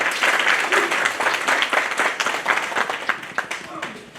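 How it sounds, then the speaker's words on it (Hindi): Sustained applause from a crowd at a Janmashtami celebration gathering, dense clapping that stays loud before gradually thinning out toward the end. "एक बार जोरदार तालियां हो जाएं।"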